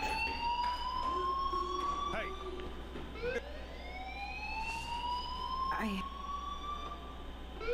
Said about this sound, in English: The alarm tripped me out.